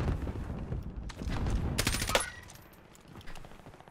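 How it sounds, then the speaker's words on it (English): Rapid close-range automatic gunfire in Warzone, loud bursts of shots lasting a couple of seconds before fading into quieter game noise. "Who the hell are these guys shooting next to me?"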